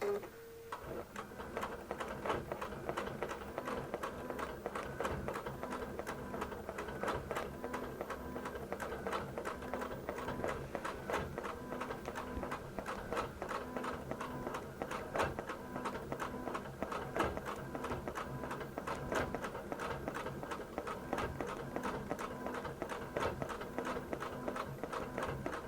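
A QBOT V3 quilting robot drives a sewing machine through delicate appliqué and echo quilting, its needle ticking in a fast, steady, even rhythm that runs continuously at a moderate, close level.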